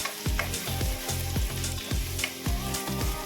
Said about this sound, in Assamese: এতিয়া তাতে নহৰু দিম। নহৰুখিনি অকণমান ভাজি